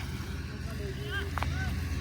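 A tractor engine runs nearby with a steady low, throbbing drone that holds for the full two seconds, and voices can be heard briefly over it.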